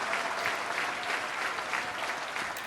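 Steady, dense stadium crowd applause in the Madden 25 football game, continuous and loud throughout with a faint voice beneath.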